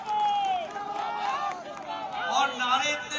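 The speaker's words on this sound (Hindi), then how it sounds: "जिस गर्मजोशी से आप नारे लगा रहे हैं और तालियां बजा रहे हैं" Rally crowd at a BJP public meeting addressed by JP Nadda, a dense, steady babble of many voices rising and falling, with chant-like shouts but no distinct clapping.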